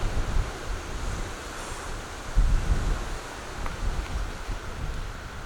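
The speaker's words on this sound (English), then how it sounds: "But this wind, it's like this in the desert." Strong desert wind roars steadily across the microphone, buffeting it with a broad rushing noise and a heavier gust midway, with no voices present.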